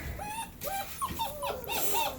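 Puppy whimpering and crying in a series of high, wavering whines and yips, close and fairly loud, repeating throughout.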